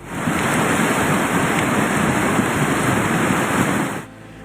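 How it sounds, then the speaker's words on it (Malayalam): A river in spate roars as flash-flood water rushes down it during torrential rain in Mundakkai, a loud, steady broadband rush that fills the clip before cutting off abruptly near the end. "പുഴയിൽ മലവെള്ളം ഇരച്ചെത്തിയതിന്റെ ഹുങ്കാര ശബ്ദം"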